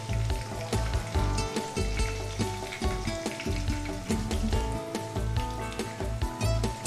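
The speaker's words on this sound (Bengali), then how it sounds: "মিডিয়াম ফ্লেমে আস্তে আস্তে পকোড়াগুলো ভেজে নিতে হবে" Boneless chicken pakoras frying in hot oil over a medium flame, giving a loud, steady, crackling sizzle that runs unbroken throughout.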